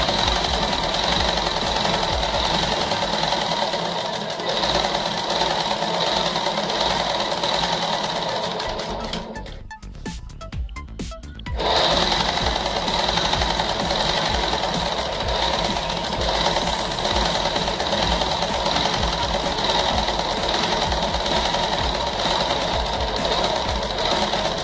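An electric sewing machine runs a long, steady stitching line on a petticoat with a continuous close whirring hum that dips and pauses briefly partway through before resuming.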